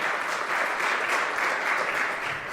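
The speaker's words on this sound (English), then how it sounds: "applause for John" Steady applause from a congregation fills the room, broad and even for a couple of seconds with no voices on top.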